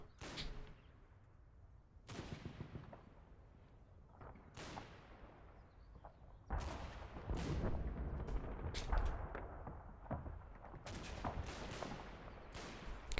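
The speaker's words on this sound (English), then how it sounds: "Come on, artillery." An artillery barrage fires in Combat Mission: Battle for Normandy, a World War II game. Sharp booms come at irregular intervals, growing denser and overlapping toward the end, with rumbling echoes between them.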